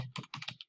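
Quick burst of typing on a computer keyboard, several close, crisp key clicks in rapid succession with no talking.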